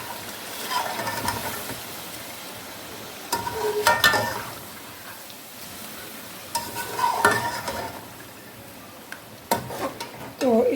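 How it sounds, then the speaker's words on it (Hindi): A spoon scrapes and stirs chicken biryani frying in a pan, with a soft sizzle underneath and bursts of metallic scraping at intervals, close and moderately loud, and speech occasionally heard alongside. "और हम इसे अच्छे से भुनाई करेंगे।"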